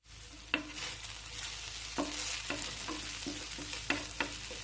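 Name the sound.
caramel garlic chicken frying in a pan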